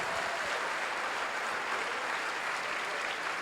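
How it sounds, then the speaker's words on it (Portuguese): Loud, dense applause from a large crowd, steady and continuous from start to finish, with no voices over it. "Dá um aplauso para ele bem forte"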